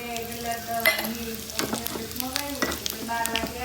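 Hot tempering oil with cumin, cinnamon, star anise and fenugreek powder poured into Gujarati dal seasoned with lemon, salt and jaggery gives a close, crackling sizzle with stirring clatter, over a faint steady hum.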